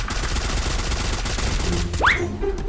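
Rapid automatic gunfire in a video game rattles on continuously and loudly, a dense stream of shots that fills the whole moment, joined near the end by a short rising whoosh-like effect.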